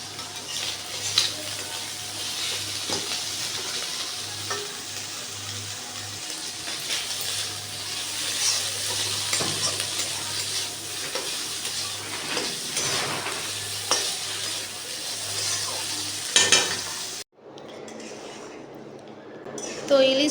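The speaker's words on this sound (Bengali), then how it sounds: "আর এখানে একবার চিংড়ি ভাজা হয়ে গেছে, এখনো ভাজা হচ্ছে" Fish and prawns frying in a pan give off a steady close sizzle with occasional stirring clatter. Voices talk over it, and the sound cuts out abruptly toward the end.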